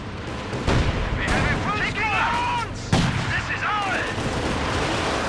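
Panzerwerfer rocket artillery fires in Company of Heroes 2, with heavy booming launches and explosions, whistling rockets in flight and battle noise throughout, while a voice talks over it.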